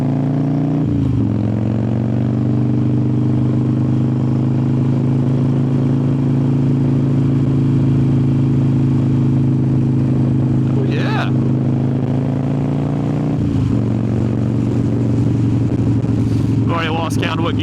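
A 2003 Harley-Davidson Softail Standard cruiser rumbles steadily while being ridden, with a low engine drone that dips briefly during a gear change and rises again under light wind.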